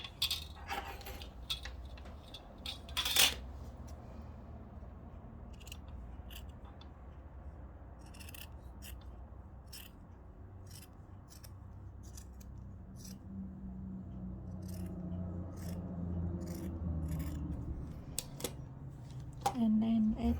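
Scissors snip through bra cup fabric in a run of sharp, close cuts, strongest near the start and end, with quieter trimming in between and a low room hum beneath.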